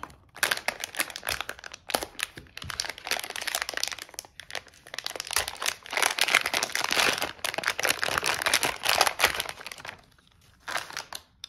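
Close crinkling and rustling of plastic packaging as a bag is pulled open, with bursts of crackle and a short pause near the end.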